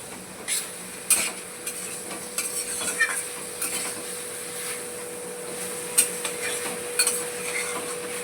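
Chicken being stirred with spices in a hot pan on the stove for tomato chicken, a steady frying sizzle under scattered scrapes and clinks of a spoon against the metal, with a faint constant hum behind.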